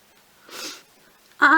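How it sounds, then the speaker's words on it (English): A single short, breathy sniff followed by a brief voiced snort-like sound, close and isolated, from a person with a cold sitting indoors. "I have got the sniffles something bad."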